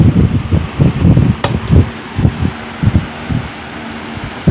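An electric fan runs fast with a whooshing, pulsing hum, its airflow thumping rhythmically against the microphone, close and loud.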